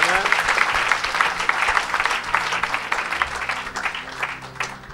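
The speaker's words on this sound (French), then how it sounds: "Tu peux acclamer pour ça si tu veux." An audience at a church mission service applauds, dense clapping that stays loud throughout, swelling and easing slightly, with a voice faintly underneath.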